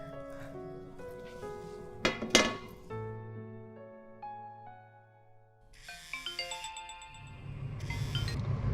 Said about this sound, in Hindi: अरे सन्ना का फ़ोन